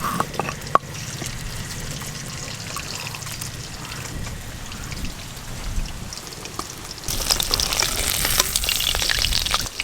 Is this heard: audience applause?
no